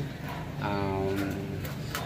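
Racing pigeons back home at a loft after a summer race coo softly, with a low murmuring call rising in the middle over steady background noise.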